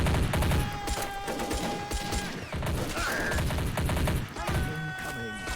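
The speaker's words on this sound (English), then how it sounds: "Exchanging fire, army man." Rapid bursts of gunfire trade back and forth in an Army Men of War game mod, dense overlapping shots and machine-gun rattles with mechanical clatter filling the whole stretch.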